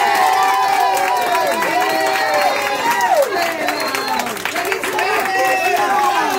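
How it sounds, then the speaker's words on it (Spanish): A crowd claps and cheers, with scattered hand claps under a thick layer of excited shouting and high voices, loud and close throughout. "Por favor, aplauso."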